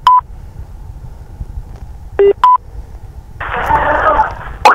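Telephone call transfer tones on a line: a few short electronic beeps and tone bursts separated by quiet gaps, followed by a burst of hissy line noise before the call connects.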